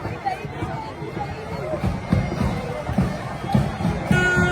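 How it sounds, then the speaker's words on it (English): An outdoor crowd in the UK fills the air with a dense, steady murmur of many voices and footsteps, with nearer people talking over the general hubbub. "Look at the crowds, man."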